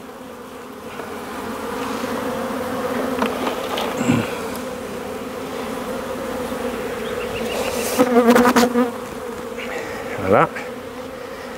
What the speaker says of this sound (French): toutes ces abeilles vont retourner à l'emplacement, là-bas